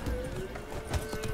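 Roach the horse's hooves clop in Witcher 3, a few quick close hoofbeats over an in-game voice line, with a brief whinny-like sound mixed in.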